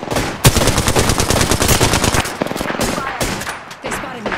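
Rapid bursts of automatic gunfire from an Apex Legends firefight, loud and close, with dense rattling volleys and brief gaps between bursts.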